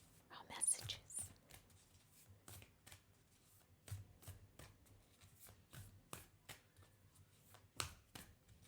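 Oracle cards shuffled by hand during a tarot reading, a quiet, close series of soft riffling flicks and papery taps at an irregular rhythm, with faint low voice in the background.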